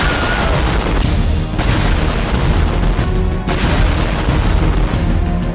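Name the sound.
giant explosion destroying city in video game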